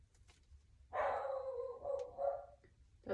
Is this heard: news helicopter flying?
no